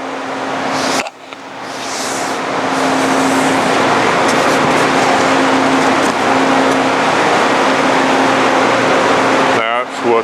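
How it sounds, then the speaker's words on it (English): Table bandsaw (Model B2 large table saw) with a braked blade drive motor, humming steadily and loudly for several seconds after a brief cut, with a talking voice over the run, then stopping near the end. "The blade drive motor has a brake, so when I hit the stop button, it stops now."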